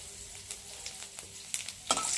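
Bay leaf and whole cumin seeds sizzle as they drop into hot oil, the first step of an egg curry, with a faint steady crackle, a few sharp pops, and a louder burst near the end.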